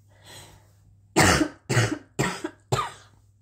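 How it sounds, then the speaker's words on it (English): Four harsh coughs from a person with a chest infection come in quick succession after a soft breath, loud and close, with no talking. "Excuse me, I'm gonna cough."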